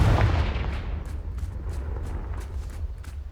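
A Confringo blasting curse in Hogwarts Legacy lands as a deep, muffled boom at the start, followed by a low rumbling tail and faint scattered crackles fading over a few seconds.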